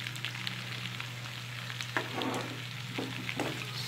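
Hotdog frying in a pan with ground pork, garlic and onion: a steady low sizzle under a constant hum, with a few scraping stirs toward the end, no talking.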